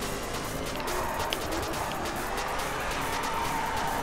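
A Corvette ZR1 in the racing game The Crew slides through a drift, with a steady loud engine drone and tire squeal running throughout, close and continuous with no voice over it.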